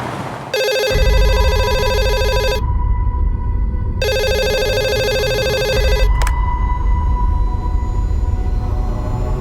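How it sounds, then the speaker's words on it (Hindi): A telephone rings loudly in two long bursts of a trilling bell tone separated by a short pause, followed by a brief click and a steady room hum. "दिन रात फोन बजते रहता है उसका"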